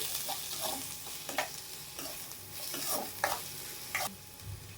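Samosa filling with onion frying in a pan, a constant sizzle broken by repeated scraping stir strokes roughly every half second, close and fairly clear, with no voices.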